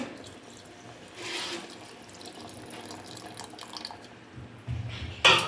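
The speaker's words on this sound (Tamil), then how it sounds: "இப்போ வந்து தேங்காய் பால் ஊற்றிக்கணும்." Coconut milk pours into a cooking pot for a fenugreek porridge, a steady close trickle of liquid running for several seconds and ending in a brief louder splash.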